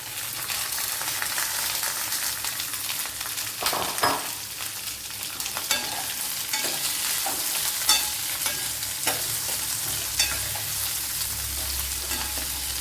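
Chopped onion fries in hot oil in a pan, a strong steady sizzle with periodic scraping and clinking from stirring, close up and without any speech.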